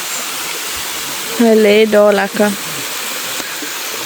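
Water rushes steadily into a small bath pool at The Baths, a continuous broadband gush running the whole time, with a voice speaking briefly over it midway.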